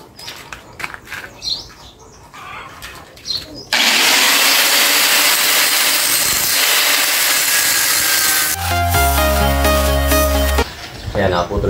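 An angle grinder cuts steel bar stock for window grills, a loud sustained abrasive whine running for several seconds after some quieter shop noise, then changing to a tonal ringing grind near the end.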